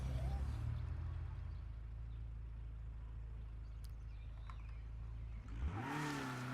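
A car engine in the zombie survival game State of Decay 2 drones low and steady, then rises in pitch near the end as it revs up, with someone talking over it.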